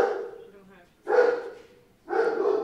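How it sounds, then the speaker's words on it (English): A security dog barks in two loud bursts with a pause between, close by and clear, its voice carrying over faint background noise. "that's the security dog"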